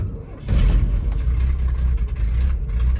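A 1979 Ford F250 truck engine runs and idles close by, a loud, low, rumbling drone that swells after a brief quieter start and holds steady with slight unevenness.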